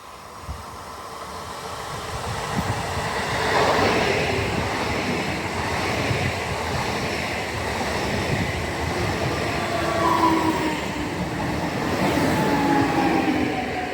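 An Intercity Podlasie train bound from Warszawa to Terespol passes through Mińsk Mazowiecki, a broad, steady rail rumble and rushing noise that swells around the middle and holds, close and loud, with no voices.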